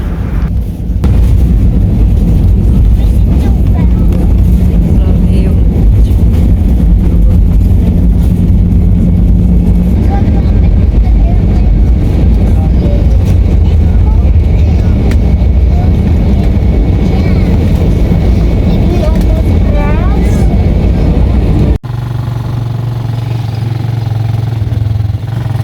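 An airplane lands, heard from inside the cabin as a loud, continuous engine and airflow roar lasting most of the stretch, then a sudden cut to a lower, steadier hum, with faint voices now and then.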